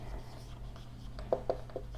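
A few brief strokes of writing on a board during a physics lesson on Newton's second law, clustered near the end after a quiet hum with no talk.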